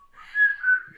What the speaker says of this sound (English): And whistle.